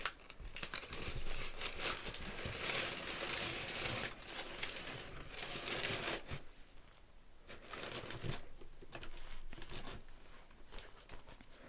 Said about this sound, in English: Sorry, I'm going to hopefully not make too much rustling.